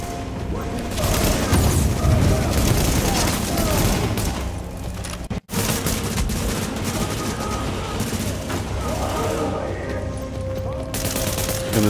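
A firefight in Tom Clancy's The Division beta: loud, dense bursts of automatic gunfire and booming blasts pound almost nonstop, with a brief cut of silence midway before the heavy shooting resumes.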